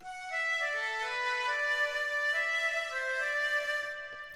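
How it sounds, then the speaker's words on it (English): A sustained flute lead from a Flex plugin holds a steady melodic phrase for a tropical pop house drop, smooth and continuous, bright and close, fading slightly at the end with no talking. "And finally I used a flute from Flex."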